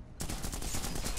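Rapid automatic gunfire in The Punisher video game starts abruptly after a brief lull, a loud rattling burst of evenly spaced shots that runs to the end.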